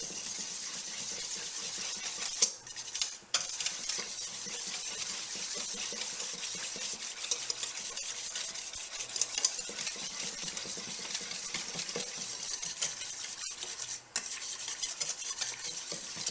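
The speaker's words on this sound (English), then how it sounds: "And then whisk together." A dressing of lemon, nutty paste and sesame seeds is whisked in a bowl for a sweet potato bowl: a continuous fast, close rattling and scraping that holds steady for the whole stretch, with a few brief pauses and no talk.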